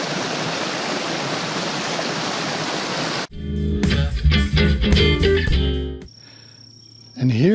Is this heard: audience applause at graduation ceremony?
no